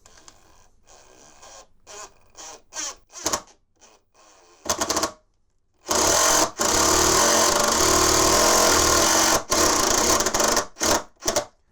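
A screw driven by a power driver through a pilot hole into a 2x4, heard as a series of short buzzing bursts followed by a longer sustained whir and a few final quick pulses, close and loud with no talking.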